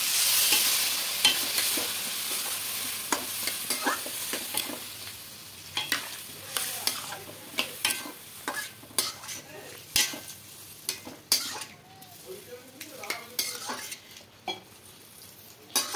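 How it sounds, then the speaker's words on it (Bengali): Ridge gourd, fried prawns and potatoes being stirred together in a pan, with a steady sizzle under repeated close scrapes and knocks of a spatula that grow sparser toward the end. "এবার ভেজে রাখা চিংড়ি মাছটা, আলুটা দিয়ে দেবো। দিয়ে সমস্ত কিছু একসঙ্গে মিশিয়ে নেব।"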